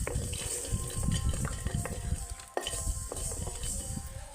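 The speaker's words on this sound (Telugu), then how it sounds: "నేనైతే చెంచా మెంతులు వేసుకుంటున్నాను నేను ఒక చెంచా ఆవాలు" Fenugreek and mustard seeds frying in hot oil for a coconut-milk fish curry spice powder, a steady close crackling sizzle with light spoon clinks, no talking.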